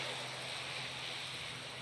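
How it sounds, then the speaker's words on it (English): An ATR-72 turboprop backtracks along the runway to line up for takeoff at an airshow, its engines a steady, distant broadband roar with a low propeller hum, continuous and unbroken. "So the ATR-72 backtracking to line up and take off."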